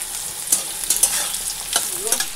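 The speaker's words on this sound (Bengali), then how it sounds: "ফোড়ন দেব।" Spices crackle and sizzle in hot oil in a pan, tempering for lentils in a home kitchen. Sharp spitting pops come in irregular bursts over a steady frying hiss, close and fairly loud, with no talking.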